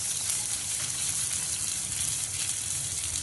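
Chopped cashews fry in hot ghee, giving a steady close hiss and fine sizzle with no voices over it.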